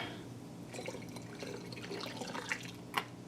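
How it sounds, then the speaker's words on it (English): Herb-infused wine poured into a bottle, a soft continuous trickle with small drips and glassy clinks near the end. "and then we'll pour that in there."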